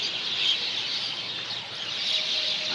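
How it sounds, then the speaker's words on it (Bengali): A large flock of birds calls continuously in a dense, steady chorus of high chirps and tweets, fairly loud and sustained without pauses and with no talk over it. "লক্ষ লক্ষ পাখি এখানে"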